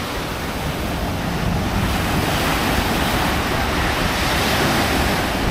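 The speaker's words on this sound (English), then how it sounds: "it feels good to be by the beach" Waves breaking on a beach in Colombo, Sri Lanka, a loud continuous roar of surf with wind buffeting the microphone, steady and close throughout with no voices.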